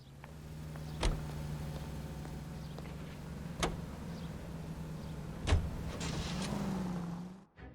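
A car driven in the video game L.A. Noire hums along steadily at a low pitch, with three sharp thumps spread across it before the sound cuts off abruptly.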